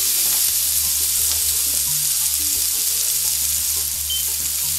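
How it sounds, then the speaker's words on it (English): Apples sauté in a hot pan with a steady, dense sizzle, close and continuous, broken by a few faint knocks of the pan or utensil. "so I just took some of the apples, throw them in, kind of saute a little bit"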